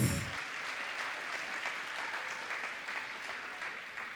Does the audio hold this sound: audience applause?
yes